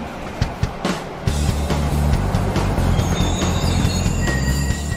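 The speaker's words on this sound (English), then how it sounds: "after four long hours, the train pulls into Bandung Station." A train pulling into Bandung Station, with rumbling rail cars, screeching wheel squeal and a few clanks, loud and close throughout.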